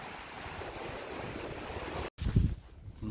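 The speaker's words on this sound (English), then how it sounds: "So I wanted to show you this little bit down by the ocean." Waves wash onto the Pacific shore with steady surf and wind buffeting the microphone, then a brief dropout followed by a louder rush of water.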